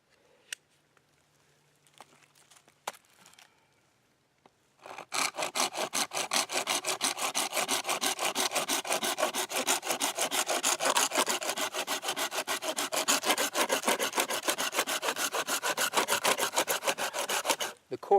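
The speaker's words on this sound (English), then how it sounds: "sawing this" Rapid, steady back-and-forth strokes of a hand saw cutting through resinous fatwood, loud and close, running continuously for about thirteen seconds after a few quiet handling knocks.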